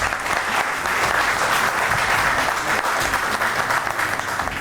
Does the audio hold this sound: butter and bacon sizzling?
no